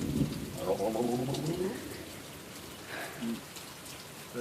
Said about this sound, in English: that was a lot of rain coming down